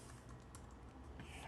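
Computer keyboard typing as a search is entered, a steady patter of light key clicks over a constant background hum, close and moderately quiet.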